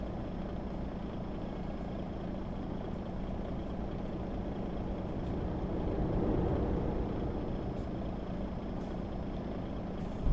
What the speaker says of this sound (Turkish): Hadi bir akmaya başladı trafik